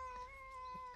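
A cat gives one long, drawn-out, steady meow, a sustained wavering cry, fairly faint and alone.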